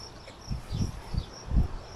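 Honeybees buzz on hive frames around a queen covered in worker bees, a low, close, fluttering hum that swells and fades in several uneven pulses.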